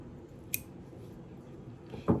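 Scissors snip once sharply, cutting away part of a simple wooden bead garland, followed a moment later by a rustling handling noise against a soft background hum.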